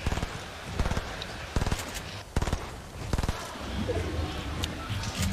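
Rapid bursts of gunfire from the Fortnite battle royale at a grand final match, several sharp volleys spaced across the moment over a constant busy game background.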